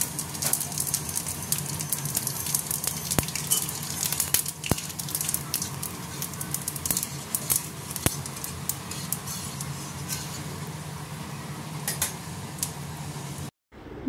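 Five-spice seeds and dried red chillies sizzle in a little hot oil in a kadai over a gas flame, making a steady close crackle with sharp pops before it cuts off.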